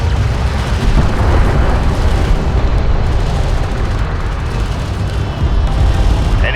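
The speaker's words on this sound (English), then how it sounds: "Enemy railgun firing on friendlies." Continuous heavy battle din of enemy railgun fire and explosions in the Homeworld: Deserts of Kharak strategy game, a dense, loud, rumbling wall of blasts with no clear gaps, running steadily throughout.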